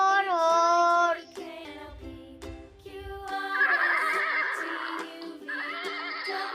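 A horse neighs loudly, a long whinny with shaky falling pitch, followed by snorting and a second high, drawn-out whinny, heard up close.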